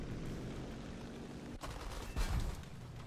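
Dense, rapid 23 mm aircraft cannon fire from an IL-2 in War Thunder rattles steadily through a constant noisy roar, with a brief break and a heavier burst near the end.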